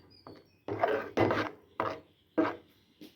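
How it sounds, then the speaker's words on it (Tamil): Greens and spinach stems stirred with a spoon into kuzhambu in a pot, making five or six scraping, rubbing strokes in an uneven rhythm, close and fairly loud, with no talking. "அப்படியே கேஸை ஆஃப் பண்ணிவிட்டு கீரையை கலந்து விட்டுருவோம்"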